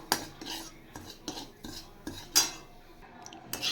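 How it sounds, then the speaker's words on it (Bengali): Semolina is stirred in a pan as it fries until lightly reddened. A metal spoon scrapes and taps against the pan in regular strokes about every half second, quiet and close, with no voices. "এবার সুজিটা আমি হালকা লাল করে ফ্রাই করব।"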